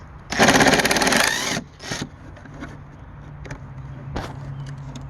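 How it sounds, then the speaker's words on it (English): Scraping and grinding of screws being undone from a GMC Envoy tail light, a loud burst of about a second followed by a few short, softer clicks and rasps against quiet background. "you have three screws to unscrew. So you want to unscrew the top"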